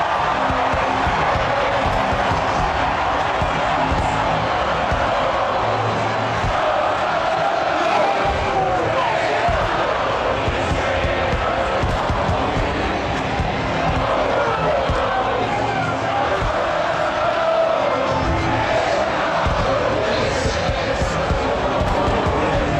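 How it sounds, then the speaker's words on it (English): A ballpark crowd roars wildly after the final out of the 2016 Cubs season, a dense, sustained wall of cheering and yelling that stays loud and steady throughout, with no break. "the crowd was completely wild"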